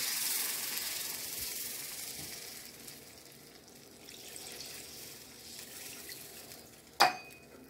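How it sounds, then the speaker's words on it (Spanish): Water pours into a cooking pot of moro de gandules with a broad steady hiss and sizzle that slowly fades, ending with a brief sharp clink; no one speaks. "podemos echar nuestro dos vasos de agua"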